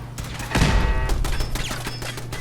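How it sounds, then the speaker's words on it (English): Turret gunfire in the Fallout 4 video game bursts out as a loud, rapid volley of shots that fades into trailing echoes, with no talking. "Turrets are tough to deal with."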